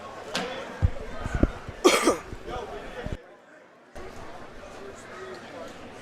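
A commentator coughs right into a live microphone during a tournament match broadcast: several sharp, loud close coughs in quick succession, mixed with chatter and background crowd murmur.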